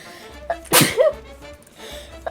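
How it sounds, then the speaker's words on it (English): A single close sneeze from a man, a sharp loud burst with a short breathy intake before it, in a quiet room with faint background noise. "I gotta sneeze."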